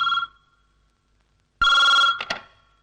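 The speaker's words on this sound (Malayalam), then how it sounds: "നീ ആ ഫോൺ നിർത്തേ." A telephone bell rings in a home, with one short burst, a long pause, then a louder ring that stops abruptly after a couple of clipped rings, close and alone.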